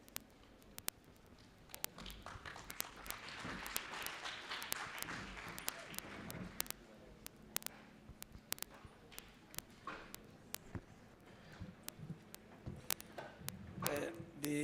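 Scattered, faint applause from an audience at a community colleges infrastructure programme launch: sparse individual claps swell briefly into fuller clapping, then thin out again, with voices talking underneath.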